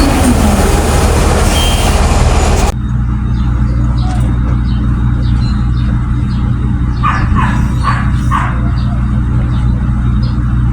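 A truck runs at a bridge construction site on the Samal Island–Davao connector project. A loud, steady engine rumble fills the whole stretch, and a dog barks briefly in the background.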